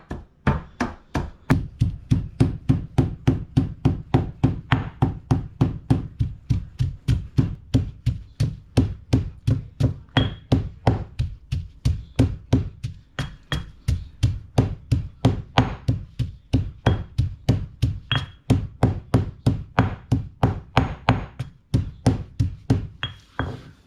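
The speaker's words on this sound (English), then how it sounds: "pounding all the ingredient together until it's become almost like a paste" Beef laab ingredients are pounded into a paste, likely in a mortar: a long run of steady, evenly spaced heavy thuds, close and loud, continuing for the whole stretch with no talking.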